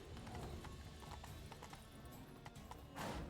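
A horse gallops in The Witcher 3 with a steady, rapid clip-clop of hooves. A brief whinny-like burst comes near the end, all fairly faint in the game mix.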